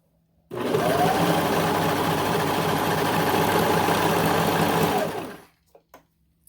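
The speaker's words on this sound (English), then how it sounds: "So you just want to line them up and sew it" A sewing machine runs in one continuous burst stitching a doll leotard seam, a steady close mechanical whir that starts abruptly, holds for about five seconds, then winds down, followed by a few faint clicks.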